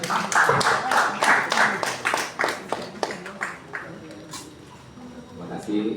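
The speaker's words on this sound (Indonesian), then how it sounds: "Tepuk tangan buat Mas Heri Dono." A small audience at an evening art talk in an artist's studio near Yogyakarta gives a short burst of brisk, close hand clapping that tapers off after a few seconds, with faint room murmur left behind.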